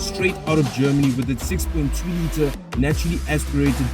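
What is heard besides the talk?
No distinct noise like a dog, phone or traffic.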